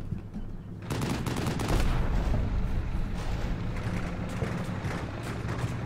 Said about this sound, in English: Our boys are firing already.